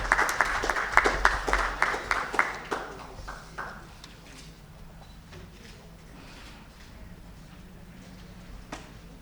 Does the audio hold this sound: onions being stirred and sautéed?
no